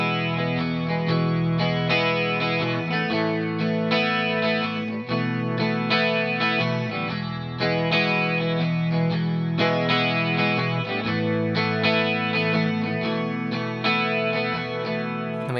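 Electric guitar run through chorus, echo and light distortion effects strums the chorus chords of a song in a steady, evenly paced pattern, loud and close for about fifteen seconds without any voice.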